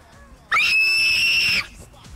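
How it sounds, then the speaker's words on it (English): A single loud, high-pitched scream from one person, sustained for about a second and cutting off abruptly, stands out against quiet background noise. "Let me hear the scream, baby."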